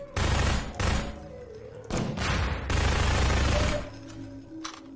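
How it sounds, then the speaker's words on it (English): Machine gun fire in Half-Life 2, loud close bursts of rapid shots in several long stretches separated by brief pauses, with a trailing quieter tail at the end. "Machine gun to the face, baby"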